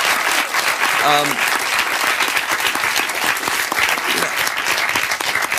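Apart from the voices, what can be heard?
audience applause for young people at town hall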